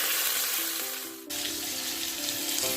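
A pork roast browns in an Instant Pot Ultra 60, giving a steady close-up sizzle that dips briefly for a moment and then resumes just as strongly.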